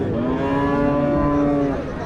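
Cattle at a busy livestock market in Rajshahi, one cow lowing in a long, loud, drawn-out moo close by, with faint market chatter underneath.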